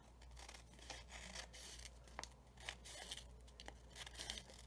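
Scissors cutting washi tape, with soft, close snipping and crinkling of tape and paper, a few light clicks of the blades among steady rustling.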